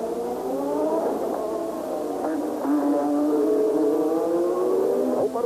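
A McLaren Formula 1 engine screams through the tunnel at the Monaco Grand Prix, a loud, high-pitched wail that climbs and drops with gear changes and passing cars.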